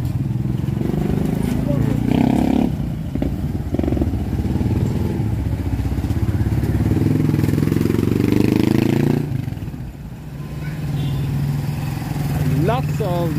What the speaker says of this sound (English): Lots of motorbikes